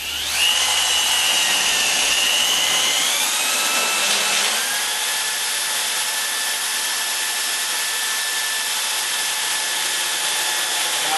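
A Baileigh TN-250 tube notcher cuts into a lubricated metal tube with a loud, steady high-pitched whine that drops slightly in pitch after a few seconds, then runs on evenly and alone.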